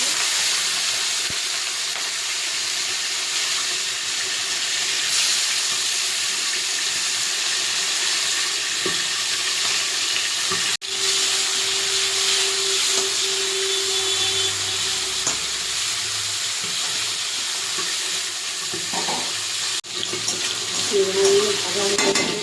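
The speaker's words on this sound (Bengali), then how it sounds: "চিংড়ি মাছটা ভেজে নেবো।" Prawns fry in hot oil in a wok, giving a steady hiss and crackle for more than twenty seconds, with a few sharp clicks and clatters over it.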